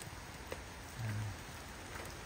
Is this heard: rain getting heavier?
yes